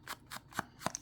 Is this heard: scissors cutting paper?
yes